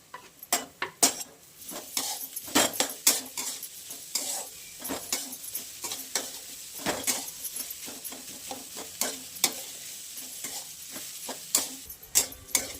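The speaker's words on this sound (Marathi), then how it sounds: "आता खोबरं कच्चं आहे ना, तर आपण मस्त परतून घेणार आहे. आपण ह्याच्यात कांदा टाकून घेणार आहे" Coconut and onion stirred in a pan over medium gas, with a spatula scraping and clinking the metal in quick irregular strokes over a soft sizzle, close and alone with no talk.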